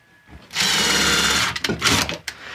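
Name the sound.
power drill driving screws into wood sawhorse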